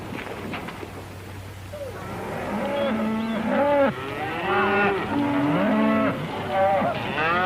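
Cattle low repeatedly at close range in a Western film scene, several long, drawn-out moos overlapping one after another above a faint background hum.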